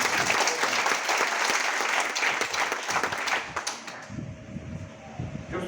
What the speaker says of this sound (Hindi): एक बार जोरदार तालियां हमारे नए मेहमान।